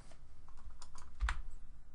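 Quick keystrokes on a computer keyboard while entering commands on a CentOS 6.6 system, a close, light run of soft taps and clicks at an uneven pace with one louder key hit, and no speech.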